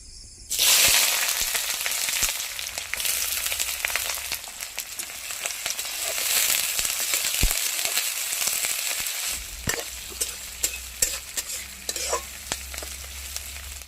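Onions sizzle steadily in a hot pan while cooking pork with hot chili, a bright continuous frying hiss broken by occasional stirring scrapes and clicks, close and clear.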